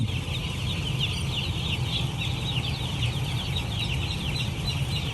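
Many one-day-old chicks cheep continuously in a high, busy chorus over a steady low hum, like a crowded poultry shed.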